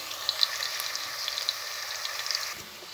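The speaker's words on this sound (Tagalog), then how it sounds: "Hintayin natin yung mag-golden brown yung mga ilagay kong sibuyas saka" Onions and ginger frying in a pan for a Filipino sinanglao dish, a soft steady sizzle with faint scattered pops, close by and quiet, no voices.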